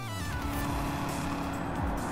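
A race car in the video game Gran Turismo 7 drives continuously, its engine holding a loud, steady high-pitched drone with shifting harmonics throughout.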